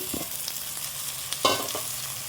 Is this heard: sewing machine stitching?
no